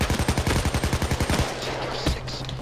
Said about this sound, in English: No, stop shooting me, stupid copper